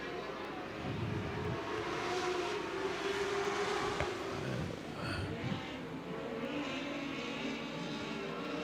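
Race cars roar around the track at the Marysville Nationals, a loud continuous engine drone that rises and falls as cars pass, heard from a distance under a steady crowd murmur.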